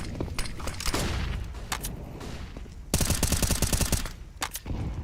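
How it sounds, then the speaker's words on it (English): Rapid bursts of gunfire in a Counter-Strike match on the Ancient map, with dense automatic-weapon volleys and scattered single shots, loud and close, including a sustained rattling fusillade midway. "Shots not far off the mark, but they will get closer"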